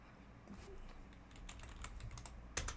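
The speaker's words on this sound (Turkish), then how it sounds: "IP adresini yazıyorum." Soft, close clicks of a computer keyboard as an IP address is typed, quick irregular keystrokes over a low background hum, ending with a sharper final press.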